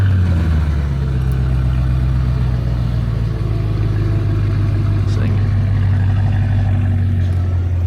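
A Cadillac CT5-V Blackwing engine rumbles loudly and continuously close by, settling from a brief higher note into a steady idle, with faint clicks over it.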